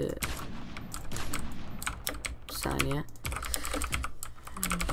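Close computer keyboard typing during a Roblox building game, rapid irregular clatter of keystrokes throughout, with a person briefly speaking over it.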